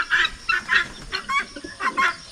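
Soft pigeon cooing and clucking calls in a few short bursts, close by, with a faint rustle between them.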